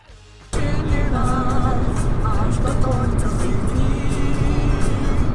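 A car driving on the road toward Poznań, with a steady, close engine and road rumble that starts abruptly and holds evenly throughout, with no clear talk over it.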